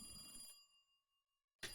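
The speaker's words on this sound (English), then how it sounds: "the phone rang." Telephone bell ringing in two bright electronic bursts separated by a quiet pause, fairly faint and alone.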